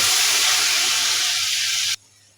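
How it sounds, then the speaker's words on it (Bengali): Garlic paste with turmeric and onion frying in oil in a pan, a steady loud hiss and sizzle that holds for about two seconds, then cuts off abruptly. "রসুনটাকেও আমি একটু কষিয়ে নিব"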